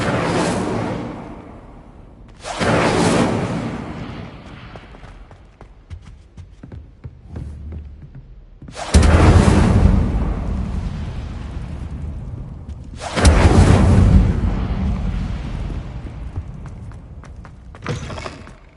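Fire spells burst out in Hogwarts Legacy gameplay: four loud whooshing blasts, each roaring up suddenly and then decaying into a rumble, with quieter game ambience and small clicks between them.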